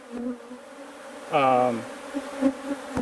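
A close, steady insect buzz from a few Saskatraz worker bees at an empty queen cage, with a brief louder, higher drone from one bee passing near, over a low background hum.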